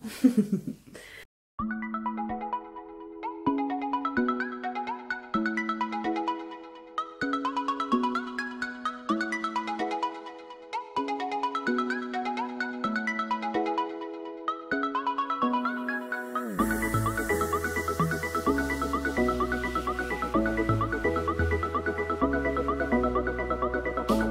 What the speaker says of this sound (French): Ah, vous entendez sûrement la télé, là.